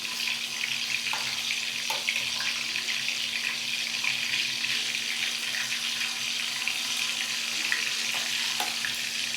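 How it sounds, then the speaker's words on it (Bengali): Desi koi fish frying in a pan, a steady dense sizzle and crackle of hot oil running throughout, close and fairly loud, with a faint constant hum beneath and occasional soft clicks. "এখন মাছটা উল্টাই দিব, আমি একটু কড়া ফ্রাই করব"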